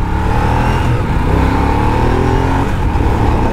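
Honda CBR 600RR sport bike engine running loud and close, a steady high revving drone with layered harmonics holding for several seconds and a slight dip in pitch near the end, no talk.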